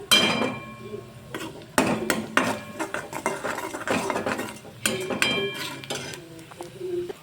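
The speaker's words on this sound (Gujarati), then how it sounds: "હવે આપણે બધું મિક્સ કરી લઈશું" Salt is stirred into a chavanu curry in a pan, with repeated metal clinks and scrapes of a spoon against the pan coming in irregular bursts, close and fairly loud.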